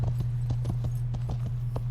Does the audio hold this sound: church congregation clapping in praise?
no